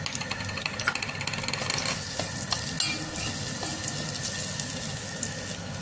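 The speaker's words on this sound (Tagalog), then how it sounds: "Kunting oil lang. Unahin natin ang bawang at saka sibuyas." Garlic and onion sautéing in a little oil for a tofu dish, a steady close sizzle with frequent scraping and clicking of a utensil stirring in the pan.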